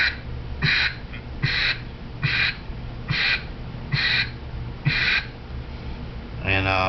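A duck call blown so its quacks come out through the back of the call, sounding as seven regular, moderately loud nasal honks over a steady background hiss. A quick rolling string of notes follows at the end.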